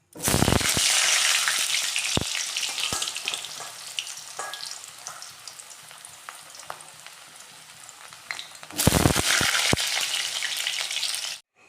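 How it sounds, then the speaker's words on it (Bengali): Potatoes frying in hot oil give off a loud, steady crackling sizzle with scattered sharp pops. The sound eases to a quieter simmer midway, then swells back to full intensity before cutting off. "এদিকে আমি তেল গরম করতে দিয়ে দিয়েছি, এখন আলুগুলো ভেজে নেব"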